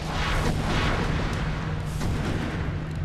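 A deep, rumbling explosion from the game Orcs Must Die! booms and lingers as a dense roar, loud and sustained with no talking.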